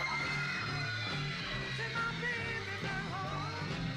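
Hundreds of teenage girls scream through a band's performance, a dense, continuous wall of distant shrieking crowd noise with the band faintly audible underneath, all captured as old, muffled recording.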